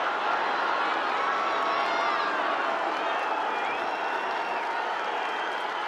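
A stadium crowd at a 2024 men's college lacrosse game between Maryland and Syracuse keeps up a broad, continuous roar of cheering and scattered clapping, swelling slightly and then easing as it carries across the venue.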